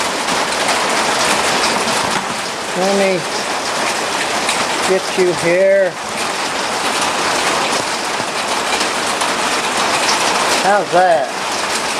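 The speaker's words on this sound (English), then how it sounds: "I won't be able to talk to you much because of this rain." Heavy rain pours outdoors in a dense, steady roar that lasts the whole stretch, with a few short bursts of nearby talk rising over the downpour.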